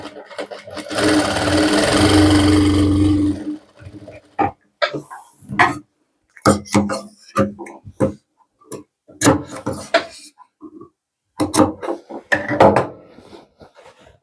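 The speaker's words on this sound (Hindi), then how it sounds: "और यहाँ से लेकर और यहाँ तक हम 1/2 इंच का मार्जिन लेकर इसमें सिलाई लगाएंगे" Sewing machine stitching the seam of men's boxer shorts, a steady close whirring run for a couple of seconds, then a string of short bursts and clicks as the fabric is adjusted between stitches.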